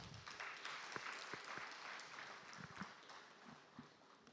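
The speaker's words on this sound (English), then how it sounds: "Can I have a round of applause for us?" An audience at an agriculture dialogue session in Abuja, Nigeria, claps steadily, a faint, fairly distant patter of many hands with a few sharper individual claps standing out.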